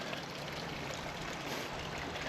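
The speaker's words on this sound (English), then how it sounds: "That water's coming underneath the road, I guess." Water flowing underneath a road near a waterfall at Little Bradley Falls in North Carolina, a steady broadband rushing and trickling, fairly faint and continuous without voices.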